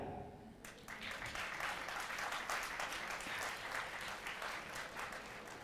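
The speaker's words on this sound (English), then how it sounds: "You can clap." Applause from a college engineering audience starts after a brief pause and keeps going at steady strength, a dense field of many hands clapping together close to the listener.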